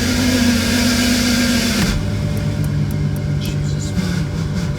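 Loud, steady engine drone from a VW VR6 B5 with a faulty clutch and flywheel, running throughout with a low hum, shifting tone near two seconds as the load changes, with faint rattling above it.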